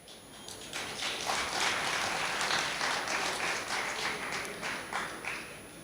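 Applause from a lecture audience gathered for a Bhagavad Gita discourse, dense and steady clapping from many hands sustained for several seconds without voices over it.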